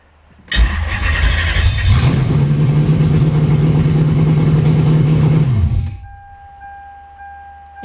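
A Lexus LS400 engine with open headers cranks, catches and settles into a loud, raw, steady run for several seconds, then shuts off abruptly.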